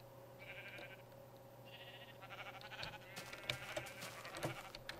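A sheep in Minecraft bleats twice in short, nasal bursts at moderate distance, set against a steady hum and clattering game sounds.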